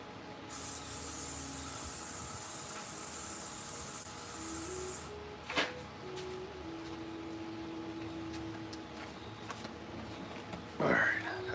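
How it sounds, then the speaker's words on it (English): A long hissing aerosol spray onto legs for about five seconds, close and steady, followed by a quieter stretch with faint background noise and a brief rustle. "I had to spray my legs again"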